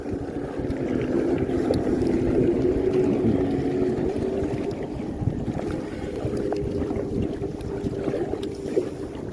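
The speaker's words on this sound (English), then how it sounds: "The wind's picked up, we're against the wind" Wind blows steadily while paddleboarding against a headwind toward small islands in the Rías Bajas of Galicia, a constant rushing roar buffeting close with a low hum beneath, no voices.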